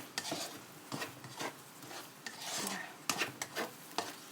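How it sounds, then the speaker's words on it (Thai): Chili paste and canned fish being stir-fried in a pan, with a spatula scraping and stirring in irregular strokes over a soft sizzle, fairly quiet and close. "แล้วก็ผัดให้เข้ากัน"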